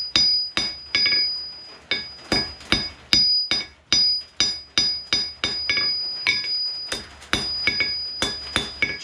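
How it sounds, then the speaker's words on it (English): A blacksmith's hammer strikes hot steel on an anvil while forging a decorative wall hook, about twenty sharp ringing metallic blows in a steady, quick rhythm, loud and close with no speech. "I'll use blows half on and half off the anvil to create the shoulders and draw out the lobes"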